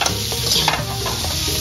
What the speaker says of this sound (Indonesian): Nah, sekarang kita oseng kacang panjang.